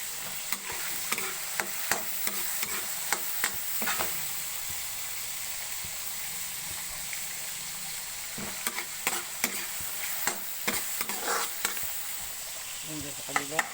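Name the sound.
stir-frying garlic fried rice in a pan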